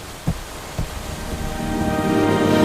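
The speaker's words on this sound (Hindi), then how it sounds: "बारिश अब भी बरस रही थी" Steady rain pours down as a broad hiss that swells louder over a couple of seconds, with two dull thumps early on.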